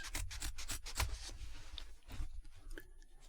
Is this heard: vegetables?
no